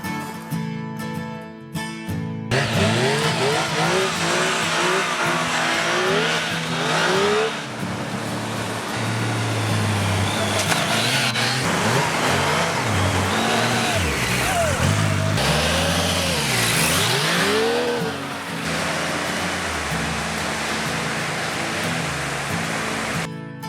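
A motorcycle engine revs loudly and repeatedly on a beach in the Andamans, rising and falling in pitch over a steady roar of wind and surf, with brief talk mixed in.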